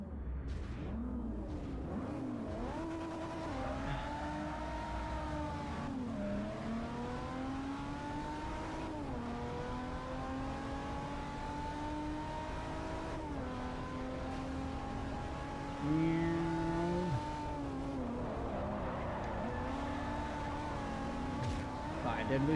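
A race car engine in the Forza racing game, driven with less torque than before, rising and falling in pitch through repeated upshifts and throttle changes, loud and continuous, with someone commentating over it.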